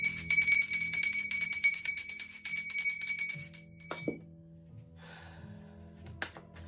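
A small handbell rings out in a bright, shimmering sustained tone for about four seconds, then decays into near silence, followed by a faint later tap.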